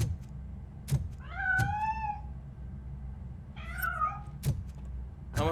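A cat in the video game RoboCop: Rogue City meows twice, with drawn-out rising and falling cries set against a low ambient hum and scattered dull thuds.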